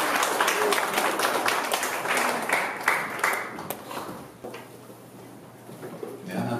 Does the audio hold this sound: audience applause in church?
yes